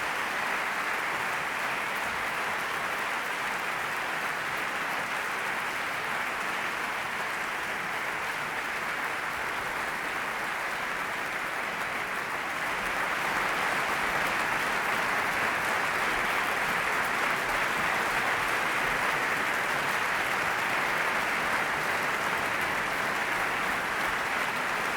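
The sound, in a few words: audience applause at an awards ceremony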